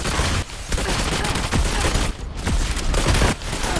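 A gun in a video game fires in continuous rapid volleys, loud and close, with short pauses between bursts.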